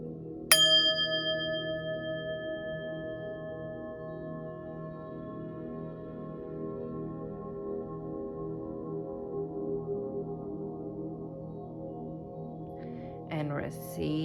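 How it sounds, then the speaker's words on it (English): A single bell struck once rings out clear and bright, its tone decaying slowly over many seconds, with a brief rustle near the end. "I'm going to ring the bell, clear your energy"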